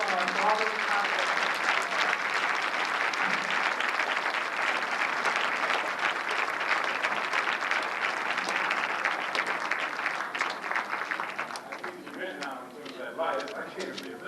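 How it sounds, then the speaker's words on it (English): Sustained applause from a university audience at a 1992 Dr King tribute at Ferris State University, a dense even wash of clapping that thins slightly near the end, with faint voices murmuring underneath. "let's give him a warm welcome and round of applause for all of his comments"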